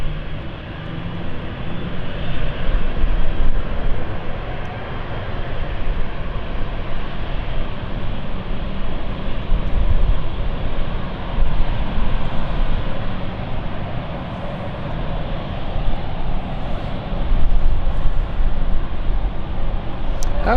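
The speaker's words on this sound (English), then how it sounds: "it's not the Florence flight which is just going" An airliner departs London City Airport with a sustained, loud jet engine roar that swells and eases gradually, broad and steady throughout with no clear talk.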